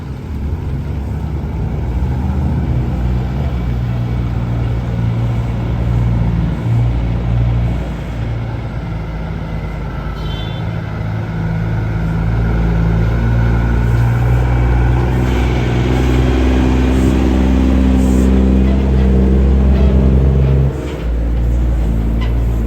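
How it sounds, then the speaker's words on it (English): A lorry creeps slowly over speed bumps at a night-time intersection in Mexico, its low engine rumble steady and close, swelling gradually louder as it passes, with no talk. "Watch how slow this lorry has to go."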